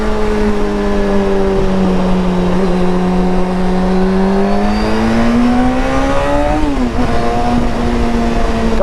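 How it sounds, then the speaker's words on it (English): A Honda CBR600F2 motorcycle howls with loud induction noise as the throttle opens on the move, the engine note rising and falling in a sustained, close, strongly harmonic roar. "It has this freaking cool induction noise. As soon as I open the throttle above like halfway,"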